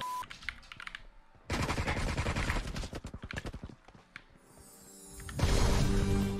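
Rapid bursts of gunfire from players shooting each other in an online video game, dense crackling volleys in several loud runs separated by brief lulls, with a final heavy burst near the end.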